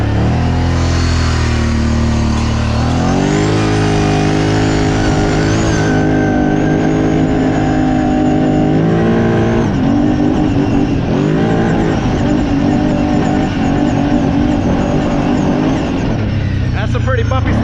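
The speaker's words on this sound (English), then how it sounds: "Let's jump on the Brute Force. Let's go take a little quick ride" A Kawasaki Brute Force 750 ATV rides in two-wheel drive over bumpy ground, its engine loud and close, revving and easing off continuously, with a voice heard at times.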